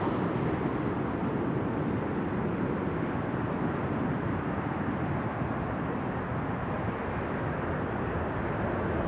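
A Boeing 737 lands with thrust reversers applied, a steady, broad roar of engine noise rolling on continuously at moderate distance with no voices.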